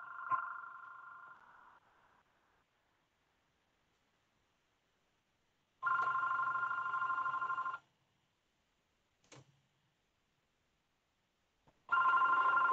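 An office telephone rings with an electronic trilling bell in separate bursts of about two seconds each, loud and close, with silent gaps between them and a brief click in one gap. No talking.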